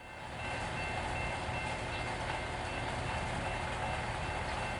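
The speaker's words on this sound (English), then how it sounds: "Some Jeeps pulled up to the crossing for a yard job." EMD Geep diesel locomotives idle and rumble at a railroad crossing before a yard job, a steady loud low drone with broad mechanical noise that holds throughout after a quick fade-in.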